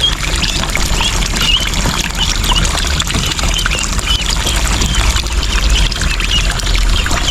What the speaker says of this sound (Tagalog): nilagyan natin itong running water para tuloy-tuloy yung kanilang pag-inom ng tubig